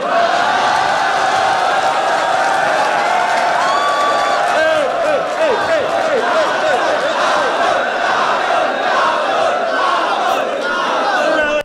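A large crowd at a live rap battle performance roars and cheers loudly and continuously, with whoops and shouts rising and falling over the steady din.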